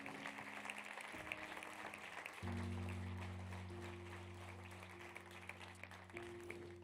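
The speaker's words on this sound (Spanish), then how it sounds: "Dale un aplauso al Señor" A church congregation claps faintly and continuously in a steady patter beneath sustained keyboard chords during a worship service.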